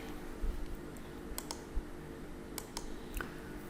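Computer mouse clicks on a PC during a Laravel setup, a few sharp, faint, isolated clicks spaced irregularly over a quiet background hum, no voice.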